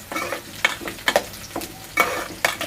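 Ingredients for fish curry sizzle in a pan while a spoon stirs, with a steady close fry hiss broken by repeated rhythmic scraping strokes, no voices.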